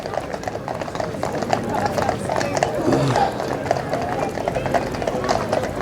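Horses walk in a Remembrance Day parade in Melton Mowbray, their hooves clip-clopping steadily on the street amid crowd murmur and general outdoor noise.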